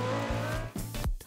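A car in the video game GTA skids through a red light, a loud engine roar with tire squeal bursts repeating in quick succession, no voices.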